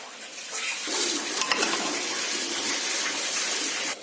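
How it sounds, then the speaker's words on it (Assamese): Grated coconut and sugar frying over a very low flame in a pressure cooker give a steady close sizzle and hiss that runs unbroken for several seconds, with no talk over it. "দি পেলাই নাৰিকলখিনি ভাজি আছো মই।"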